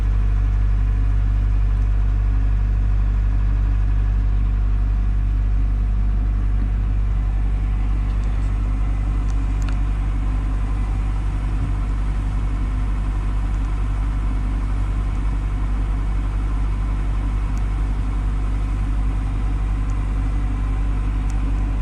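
Boat engine on the Intracoastal Waterway running steadily at about 1400 RPM, a loud, continuous low rumble with no change in pitch, heard alone for over twenty seconds.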